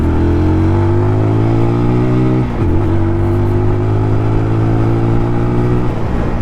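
TVS Apache RTR 200 4V BS6 motorcycle, 2021 model, accelerating in urban riding mode, a loud close engine drone that rises in pitch, dips briefly during a gear change, then climbs again.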